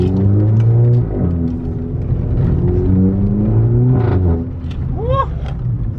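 A tuned VW Polo GTI with a Stage 2+ tune accelerating hard in sports mode, loud in-cabin engine drone rising through the revs with a shift partway, plus a brief exclamation near the end.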